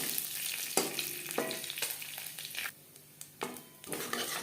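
Half a teaspoon of whole cumin seeds fry lightly in hot oil as a tempering for a rui fish curry, giving a steady close sizzle with a few sharp clatters and a brief quieter dip midway.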